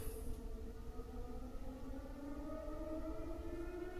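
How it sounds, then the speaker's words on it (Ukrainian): A civil defense air raid siren wails across Saltivka in Kharkiv on a July 2023 morning, its long sustained tone rising and falling, steady and moderately distant over low background rumble, with no voices. "Знову лунає повітряна тривога."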